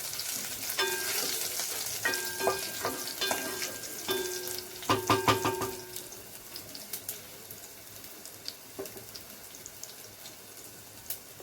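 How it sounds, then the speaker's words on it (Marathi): Garlic sizzling in hot oil while being sautéed for daal, a steady close hiss with stirring clinks and scrapes, settling into a quieter sizzle toward the end. "लसूण घालते. थोडं परतून घ्यायचं."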